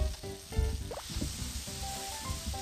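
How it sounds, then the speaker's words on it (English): In the Cooking Mama video game, onions fry in a pan with a quiet, crackly sizzle. Short tonal game chimes and blips sit on top of it. "Okay, so then now we have this pan frying"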